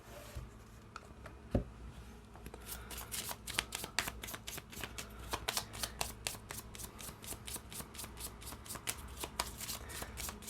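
A deck of tarot and gypsy cards, traditional Egyptian tarot and Cigano deck, is shuffled by hand in a quick run of crisp, riffling card flicks, near and steady, with no talk over it.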